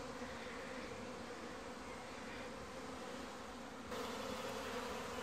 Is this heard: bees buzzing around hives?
yes